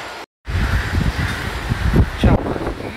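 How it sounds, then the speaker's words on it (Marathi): Strong wind gusts outdoors, a loud rumbling buffet with rustling, briefly cut off near the start, then continuing in surging bursts. "वारा मस्त सुटला इकडे बसायचं म्हणून होतं."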